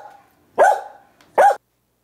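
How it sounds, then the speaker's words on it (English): Two loud, close dog barks, one at a time with a short pause between them, in an old country house in a Jane Eyre stage production. The dog came in with the master. "What dog is that?"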